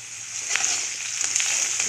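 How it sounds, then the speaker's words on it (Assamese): Onions fry in a hot pan with a steady, close sizzle, broken by a few soft spatters and crackles and no talking. "পিঁয়াজখিনি ভাজি আছোঁ"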